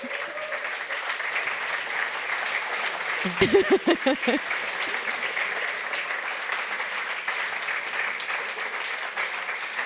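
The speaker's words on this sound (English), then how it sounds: "Is it applause for drinking?" Awards conference audience clapping in a large hall, a dense steady applause running throughout with a brief louder burst of claps near the middle.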